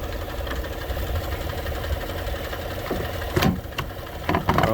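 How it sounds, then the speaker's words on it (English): A 2017 Chevy Silverado engine idles steadily with a low, even mechanical hum and a faint regular ticking, punctuated by a few sharp clicks and knocks near the end. "And then I tried turning it back on and it was working just fine."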